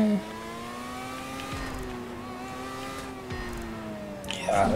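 Formula 1 race car engine in the GTA V Online video game, a whining tonal drone that shifts pitch up and down as the car accelerates and eases off, with brief bursts near the end.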